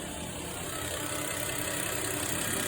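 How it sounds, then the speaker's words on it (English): A Toyota 1HDT diesel engine idles steadily on its first run-up after a rebuild, a constant near rumble with even mechanical clatter and no talking over it. "Now 1HDT idle"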